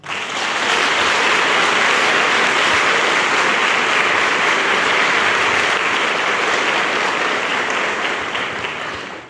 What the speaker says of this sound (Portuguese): Aplaude José.